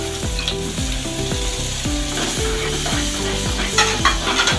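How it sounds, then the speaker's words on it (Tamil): Tamarind water going into a pan of sizzling fish curry for Kanangatha fish kuzhambu, a steady frying hiss with repeated rhythmic stirring scrapes, close and fairly loud with no talk. "இந்த கரைச்சி வச்ச புளியை இதில் ஊற்றணும்"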